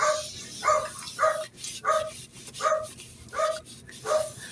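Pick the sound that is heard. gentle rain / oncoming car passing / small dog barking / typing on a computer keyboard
small dog barking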